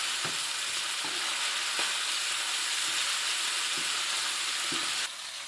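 Eggplant frying in a pan, a steady loud sizzle with faint periodic clicks and taps from stirring, ending with a slight drop in level.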